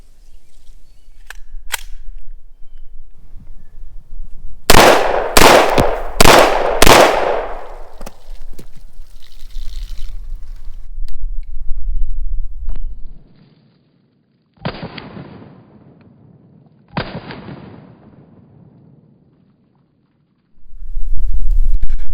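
A CMMG Banshee firing at targets on a range: a quick string of four loud, sharp shots, then two more spaced single shots, each fading into a brief echo between quieter gaps.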